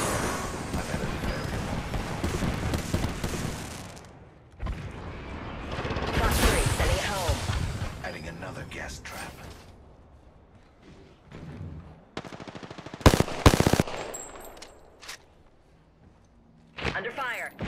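Gunfire in the video game Apex Legends, bursts of shots in a loud, dense stretch at the start and then scattered sharper volleys, with a voice talking over parts of it.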